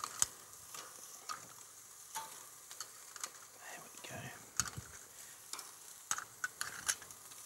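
Seafood for paella frying in a pan at Terrigal Beach, with steady sizzling and crackle, intermittent stirring and utensil clinks close by, and a voice speaking faintly in the background.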